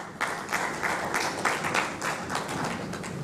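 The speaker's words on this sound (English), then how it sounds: "Please, a round of applause." Audience clapping at a tourism expo sustainability seminar in a hall, a short burst of moderate applause with uneven hand claps rising and holding steady, no voices over it.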